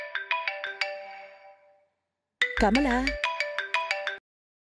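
A mobile phone ringtone plays indoors in a home, a loud repeating electronic melody that pauses and then resumes, with a voice briefly speaking over it.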